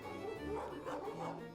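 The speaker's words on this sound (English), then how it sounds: "The dog sound was a little weird." A dog yips and barks in quick repeated bursts in the video game Don't Starve: Newhome, close and fairly loud, with a slightly artificial tone over a steady low background hum.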